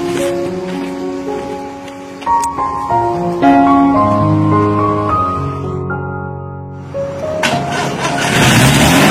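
A car engine on a roadside starts and settles into a steady idle with a rising, shifting hum, then swells into louder broadband noise near the end, with no clear speech.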